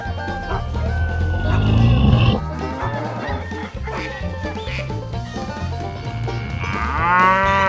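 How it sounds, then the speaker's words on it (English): Simmental cow mooing, a loud drawn-out low call followed by further lowing and a higher bellow near the end, with faint farmyard sounds behind. "The Simmental cow grazing."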